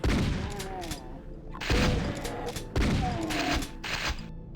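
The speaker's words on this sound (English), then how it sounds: "we're just gonna gun down these guys with the shotgun" Repeated shotgun blasts in the first-person shooter Doom II, three loud booming shots spaced about a second apart, each with a heavy low thump and a trailing echo, with in-game effects in between.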